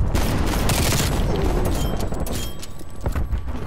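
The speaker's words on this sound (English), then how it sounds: "Throwing grenade." Grenade blast and rapid gunfire in Call of Duty: Black Ops Cold War during a hardpoint match, a loud, dense barrage of shots and booms that continues throughout without letting up.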